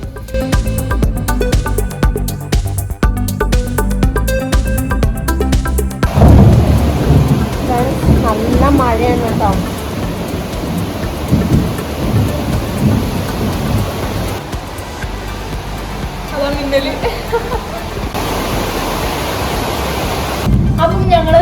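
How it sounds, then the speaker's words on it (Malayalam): Heavy rain pours down in a steady roar with low rumbles of thunder, after a few seconds of music at the start; voices talk over the downpour. "പുറത്ത് ഭയങ്കര മഴയും"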